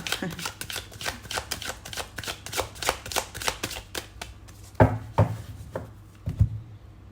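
A deck of tarot cards is riffled and shuffled by hand in a steady run of quick papery bursts, with a few sharper taps toward the end, all close and moderately loud.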